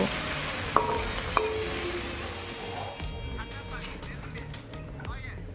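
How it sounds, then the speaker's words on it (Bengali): Chopped onion and garlic fry in oil in a pan, a steady sizzle with a couple of sharp clinks of a spoon against the pan early on and occasional stirring scrapes. "পেঁয়াজ রসুনগুলোকে একটু লাল লাল করেই ভেজে নেব"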